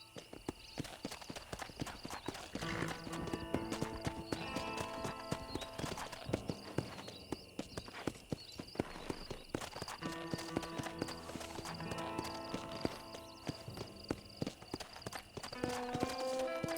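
Horse hooves clip-clop steadily in Red Dead Redemption, a rhythmic trotting beat running the whole way through under loud orchestral game music, with an occasional whinny.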